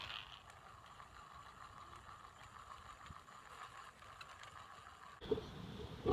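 A hand-cranked rope-making device twists rope with a faint, continuous mechanical rattle and ticking of turning gears, close by, ending in a louder clatter.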